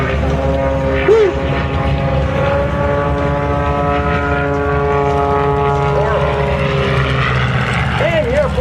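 A propeller airplane flies aerobatics at the 2013 Riverside airshow with a loud, steady droning engine whose pitch swells and shifts through the manoeuvres, with voices at times.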